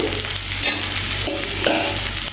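A pot of buttermilk curry (mor kuzhambu) bubbles and sizzles steadily on a simmer, with soft stirring scrapes breaking through now and then; nobody speaks.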